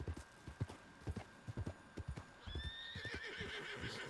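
In the video game Red Dead Redemption 2, rhythmic clip-clop of horse hooves trotting close by, followed by a horse neighing over the continuing steps.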